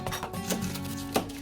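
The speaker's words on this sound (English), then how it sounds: "I'm just gonna chop this up." A knife chops spring onions on a small chopping board while cooking pad Thai, giving a few soft, irregular taps over steady room background.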